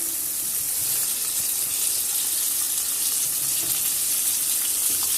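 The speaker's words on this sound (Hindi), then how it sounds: "ये देखिए जी, फ्राई हो रहे हैं, बस गोल्डन सा कलर हमने इनको करना है।" Chicken pieces for a zinger wrap deep fry in hot oil, giving a steady, dense bubbling sizzle with light crackles, close and continuous with no talk.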